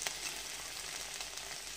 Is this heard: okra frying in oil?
yes